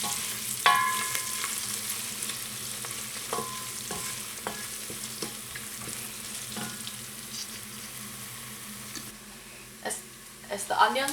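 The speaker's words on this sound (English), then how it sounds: "As the onions and the spices are frying" Steady sizzling and crackling of onions and spices frying in a pan, with occasional pops and scraping, fairly quiet and continuous throughout.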